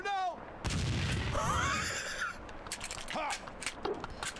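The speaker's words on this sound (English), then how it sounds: "Oh no, there's more grenades!" Grenade blasts in the Max Payne shooter game: a deep boom lands after a brief lull, followed by rumbling debris, a rising whine and scattered sharp cracks, loud and close over game noise.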